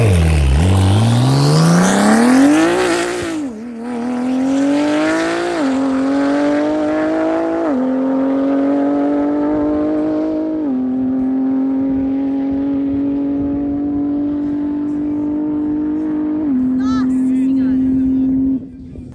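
A high-performance sport motorcycle makes a top-speed run on a drag strip. The loud engine revs up hard through several gear changes, each marked by a brief dip in pitch, then holds a steady high drone before easing off at the end.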